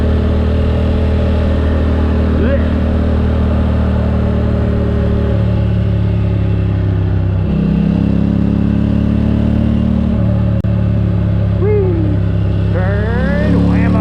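Motorcycle engine running continuously on a winding country road in Fallbrook, San Diego, its steady drone rising and falling with gear changes and throttle, loud and close with wind noise while a rider talks over it.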